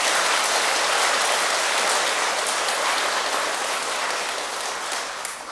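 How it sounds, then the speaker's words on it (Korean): Warm applause from a temple congregation for its Buddhist volunteers, a thick, even wash of many hands clapping that holds steady and then slowly thins toward the end. "열애사 불자들을 위해서 우리 뜨거운 박수 한번 보내드리세요."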